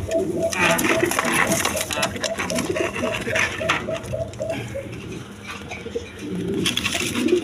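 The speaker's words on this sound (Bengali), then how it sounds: "দর্শক এইখানে এক পেয়ার ফ্যান্টাল কবুতর আছে দেখেন" A pair of fantail pigeons cooing close by, a repeating rhythmic low coo pattern with steady rustling background and a faint voice now and then.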